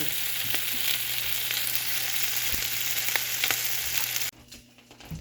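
Sausages fry in a pan in a continuous close sizzle with faint crackles, then the sizzle drops sharply near the end as if the heat is lowered or the pan moved.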